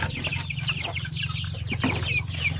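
Oriental-breed chickens on a farm cluck and squawk close by, with overlapping calls and short cries over a steady low background hum.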